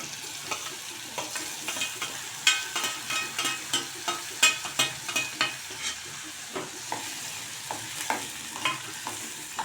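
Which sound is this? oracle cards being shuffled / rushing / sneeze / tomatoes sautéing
tomatoes sautéing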